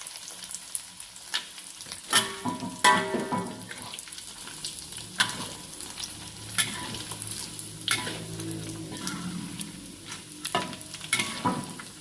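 Emping crackers fry in hot oil with a steady close sizzle, broken by repeated sharp clatters and scrapes as the thin, small chips are flipped and turned in the pan.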